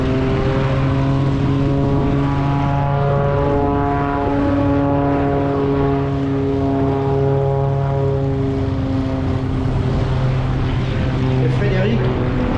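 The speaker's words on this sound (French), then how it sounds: "Un extra 300 de l'armée de l'air" An Extra 300 aerobatic propeller plane of the French Air Force takes off at an airshow, its loud, steady droning engine dominating the whole stretch while voices carry faintly underneath.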